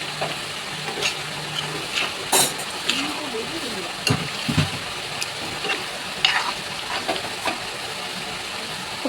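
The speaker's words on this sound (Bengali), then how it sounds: "আলুটা দিয়ে এখন নেড়ে চেড়ে নেব।" Fried potatoes tossed and stirred into a sizzling pan of Bengali chicken curry: intermittent scraping and clattering strokes over a soft frying hiss, close by, with a voice speaking between them.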